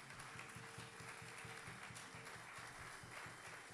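A church congregation breaks into sustained applause and acclaim for the Lord during a worship service, a dense, steady wash of clapping with rhythmic low thumps underneath, fairly distant and evenly loud throughout.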